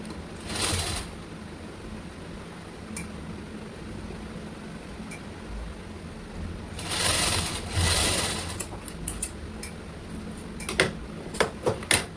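Sewing machine stitching a red lined round-neck blouse, running in short bursts of rapid mechanical chatter between quieter gaps, with light clicks and handling noises nearby.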